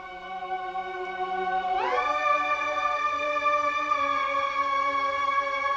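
A low held tone gives way to a bright, swelling orchestral synth chord from the Heston's Decalogue Orchestra preset that rises into place and sustains evenly, with no speech.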